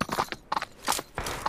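Hooves of a horse galloping in the battle-royale game PUBG Mobile, a quick repeated clip-clop in three or four bursts, fairly close and clear with no talking.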